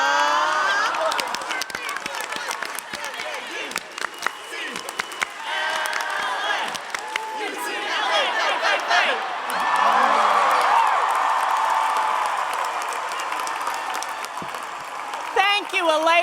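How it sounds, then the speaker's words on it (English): Graduates at a UCLA commencement ceremony clap and cheer together, a loud crowd roar with scattered whoops and shouts, rhythmic clapping building in places. "Class of 2017, how about one more A clap?"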